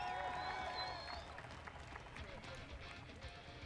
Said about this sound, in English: put your hands together for Bobby one more time